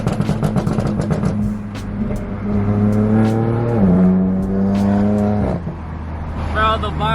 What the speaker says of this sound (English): Literally, I love the way this car sounds now.